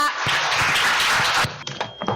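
Audience applause welcomes a speaker at a lecture: a dense burst of clapping for about a second and a half, then thinning out into a few scattered claps.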